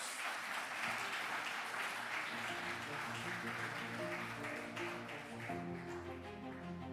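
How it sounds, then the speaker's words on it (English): An audience at an annual meeting claps in a sustained, fairly soft round of applause lasting several seconds, with a faint tonal hum beneath the clapping. "Please join me in offering them a well-deserved round of applause."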